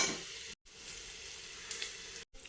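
Onions, ginger, green chillies, curry leaves and garlic frying in coconut oil in a pressure cooker for Kerala chicken varattiyathu, a steady close sizzle with two brief dropouts.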